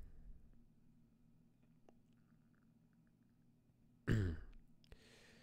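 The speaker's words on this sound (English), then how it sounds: "sorry, I keep clearing my throat" A single sharp throat clearing bursts out close up after a few seconds of near silence, followed by a brief faint rustle.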